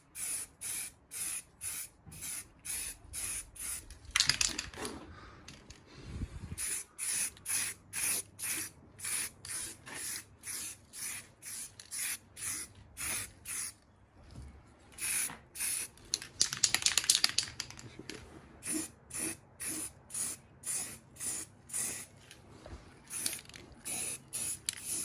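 Spray can laying down primer on a BMW E36 328i subframe during a refurb, heard as repeated short hissing bursts in steady rhythm, close and fairly loud, with brief pauses and no talking.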